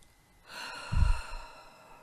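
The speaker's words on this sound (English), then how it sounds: "Nice deep breath." A single deep breath taken slowly in and let out, close and soft, standing alone in a quiet room during a tapping exercise session.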